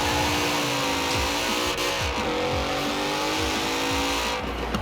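Mercedes-AMG GT racing in Forza Horizon 4 on a wintry track, engine droning continuously at high revs with shifting pitch and faint tyre noise, close and steady throughout.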